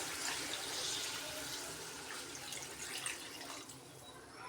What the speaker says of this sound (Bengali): এখন পরিমাণ মতন জল দেওয়া হবে মাংসের মধ্যে